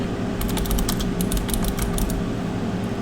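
Computer keyboard keys clatter in a quick, uneven burst of close clicks over a low, steady room hum, then stop near the end.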